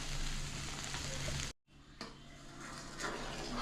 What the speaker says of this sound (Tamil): குழம்பு கொதிக்கட்டும், பார்க்கலாம்